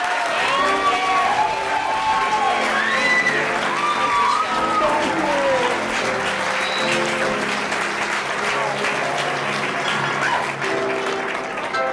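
A large audience claps loudly and steadily to welcome a speaker, the applause dense and continuous with a few whoops and cheers on top.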